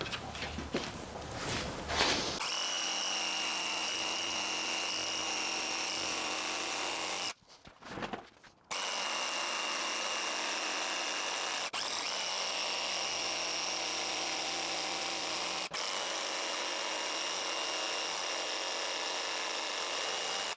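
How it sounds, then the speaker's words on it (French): A jigsaw buzzes steadily through wood at close range, one continuous motor whine with a brief pause midway before the cutting resumes. "je vais découper à la scie sauteuse en espérant que ce soit droit"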